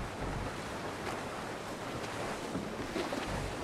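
Ocean waves and wind rush steadily around a sailing ship in the video game Assassin's Creed 4, a dense continuous wash of surf and wind noise with no voices.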